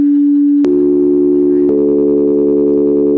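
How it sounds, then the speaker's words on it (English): Pure sine tones building into a major chord: a single steady electronic tone, then further tones stacking on in two sharp steps, loud and sustained with no voices. "listen to it when you hear it as pure sine wave expression"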